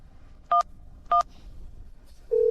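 Two short, evenly spaced phone keypad tones beep close by, followed by a longer steady dial tone starting near the end, against a quiet background with no speech.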